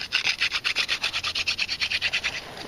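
A wooden hand drill spins against a wooden hearth board, giving a quick, steady run of about twenty rhythmic rasping strokes, close and fairly loud.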